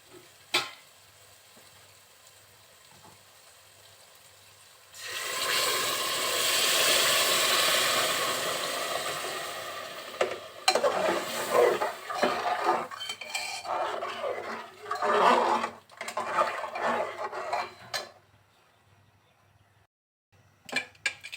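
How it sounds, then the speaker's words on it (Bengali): Hot water is poured into mung dal frying in a pressure cooker, giving a loud, sustained hiss, followed by clattering stirs and metallic scrapes against the pot before it settles to quiet. "এখন এর ভিতরে আমরা গরম পানি দিয়ে দেবো"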